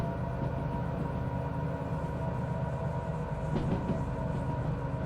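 A heavy train in the Derail Valley game runs too fast, giving a loud, continuous rolling rumble with a steady mechanical whine and faint rhythmic rail clatter throughout.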